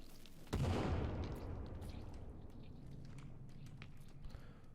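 A dynamite blast in the survival game The Forest goes off as a sudden loud boom about half a second in, then rumbles and decays over several seconds with scattered faint knocks in the tail.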